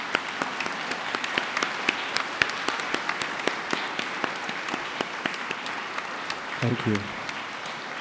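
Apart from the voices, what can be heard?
graduation audience round of applause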